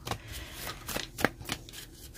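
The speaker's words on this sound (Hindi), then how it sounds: "I am taking out a card from here for 27th of January" Tarot cards shuffled and drawn by hand, a quick run of crisp riffling flutters and slaps close up across about two seconds.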